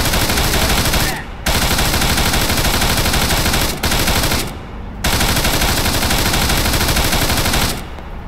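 Loud, close machine gun fire in the military shooter ARMA 3: long sustained automatic bursts broken by two short pauses, dense and relentless throughout.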